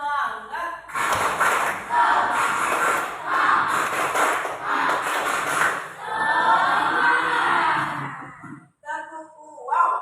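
A classroom of children does a rhythmic spirit clap led by a teacher, bursts of group clapping and thumps with voices chanting along, repeating in several rounds before trailing off.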